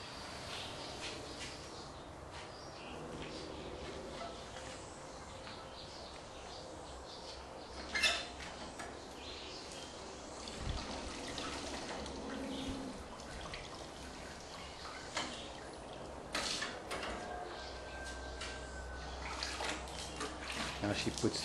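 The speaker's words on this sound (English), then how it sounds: "Sucking up the detergent and the fresh water. So there's the mop now being a vacuum cleaner." A mop doubling as a vacuum sucks detergent and fresh water off a tiled floor with white grouting, a steady wet slurping hiss with trickles and occasional knocks, with faint voices in the background.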